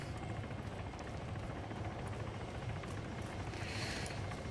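Helicopter in the military game Arma 3, a steady rotor and engine drone holding at constant loudness throughout, dense low thudding under a broad noisy wash, with no talk.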